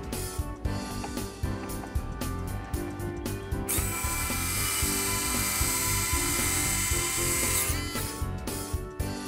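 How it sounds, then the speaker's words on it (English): A PowerEgg drone's landing legs deploy with a close, whirring motorized grinding, punctuated by rapid ratchet-like clicks at first and then a sustained smoother mechanical whine. "quickly press the power button 3 times to deploy the landing legs"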